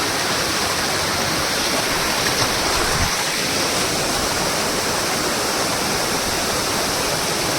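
A waterfall at Shri Malanggad roars in a loud, continuous broadband rush with no pauses, close by and steady from start to finish.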